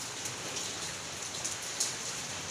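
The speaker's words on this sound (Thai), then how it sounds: "ว้าว ฝนตกครับ" Rain falls in a continuous soft patter, with occasional louder drops landing close by.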